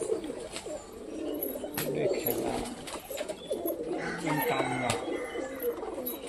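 Pigeons in a loft, including a crested, white pair, cooing repeatedly in soft, rolling bursts at close range, with someone talking over them.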